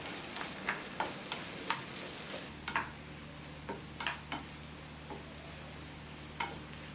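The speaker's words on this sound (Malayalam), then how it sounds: "വെളുത്തുള്ളി ചെറുതായിട്ട് അരിഞ്ഞതും 1/2 കപ്പ്, ചെറിയ ഉള്ളി അരിഞ്ഞത് 1/4 കപ്പ്, കുറച്ച് കറിവേപ്പില, പച്ചമുളക് 3-4 പച്ചമുളക്, എല്ലാം കൂടെ നല്ലതുപോലെ ഒന്ന് വഴറ്റിയെടുക്കണം" Chopped garlic, shallots, curry leaves and green chillies sauté in a pan for a Kerala-style fish curry. The sizzle is soft and steady, with scattered light clicks from stirring.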